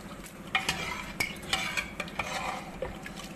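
Boiled jute leaf dal stirred into a cumin tempering in a pot, with a busy run of spoon scrapes and clinks against the pan over a low sizzling bubble, close and fairly quiet.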